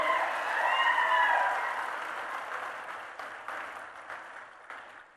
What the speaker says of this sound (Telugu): ఆ అధికారులను అభినందించడానికి పెద్ద ఎత్తున మీరు చప్పట్లు కొట్టండి